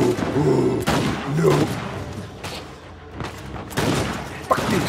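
Gunfire in the video game Uncharted 4, a fusillade of loud shots and booms with rumbling thuds, while a player talks excitedly over the action.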